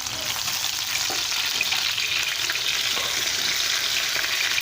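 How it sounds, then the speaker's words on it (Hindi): Curry leaves and fish fry in hot oil in a pan, a loud, dense, continuous sizzle crackling steadily up close, with faint stirring knocks beneath it. "अब हम इसमें ये कड़ी पत्ता डालेंगे ताकि ये भी इसके साथ थोड़ा फ्राई हो जाए।"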